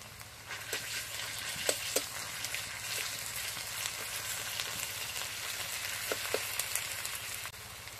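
Garlic paste sizzles as it fries with onions in a pan, a steady close crackle broken by occasional sharp clinks and scrapes of stirring.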